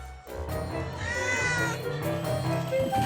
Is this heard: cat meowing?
yes